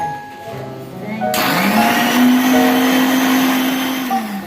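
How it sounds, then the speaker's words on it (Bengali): A kitchen mixer grinder whirring into a loud high-pitched motor whine that rises as it starts, holds steady while blending, then eases slightly, close and without talk. "এবার মিক্সিতে এটা গ্রেট করে দিল।"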